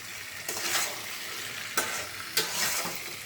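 Pumpkin chokka fries in a pan while being stirred, a continuous sizzle broken by three or four distinct scraping strokes of the spoon, close and moderately loud.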